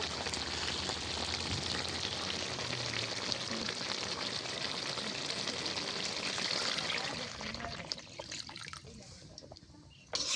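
Water poured into duck curry on a clay stove, a loud continuous rushing hiss with bubbling that drops off toward the end, where a quieter simmer remains.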